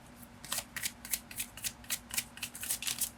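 Tarot cards being shuffled by hand, a run of about ten crisp riffling bursts in a steady rhythm, close and fairly quiet, with a faint steady hum underneath.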